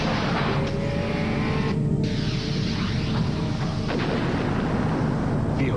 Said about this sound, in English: Miller Genuine Draft Rusty Wallace stock car